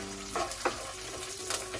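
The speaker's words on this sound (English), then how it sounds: "Saute this nicely." Red gram dal, urad dal, peanuts, red chili and curry leaves sauté in a hot pan, a soft crackling sizzle broken by a few quick scraping stirs of a spatula.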